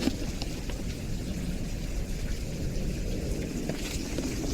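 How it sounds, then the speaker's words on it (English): Steady rain pours down during a spring storm with hail and flooding, a dense continuous wash of noise with scattered drops and crackles, no talk over it. "It's been hailing, it is flooding, it's thundering."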